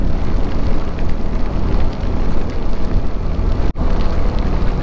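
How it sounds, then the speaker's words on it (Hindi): Steady monsoon rain pours during a motorcycle ride up Tamhini Ghat, a continuous dense hiss mixed with wind rush that runs unbroken through the clip, briefly cutting out near the end. "बारिश एकदम कंटिन्यूसली चालू है यहाँ पे।"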